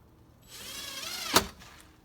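A power driver sends a screw into a wall bracket in one short whirring burst of about a second, ending in a sharp clack.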